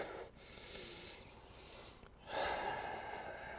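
Close, audible deep breaths during a yoga session: a long airy inhale-exhale cycle, a short pause, then a louder, fuller breath, with no talk.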